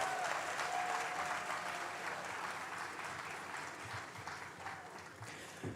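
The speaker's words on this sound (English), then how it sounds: "Ladies and gentlemen, can we have another round of applause for them?" Steady audience applause fills a hall during a lighting ceremony, a dense continuous patter of many hands that holds evenly and slowly tapers, with no talk over it.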